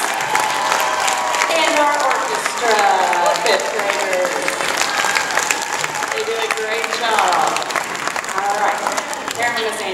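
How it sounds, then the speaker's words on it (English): An audience claps steadily for a school chorus at a December evening chorus and orchestra concert, the applause filling the room while a voice talks over it. "let's give our all-star chorus one more big round of applause"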